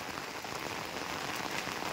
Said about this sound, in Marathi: आता जोरात असा पाऊस आलाय